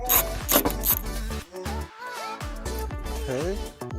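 A ratchet works loose the headlight bolts on a 2009 Ford Flex, its clicking strokes coming in uneven bursts with short pauses and some metallic scraping, close and moderately loud.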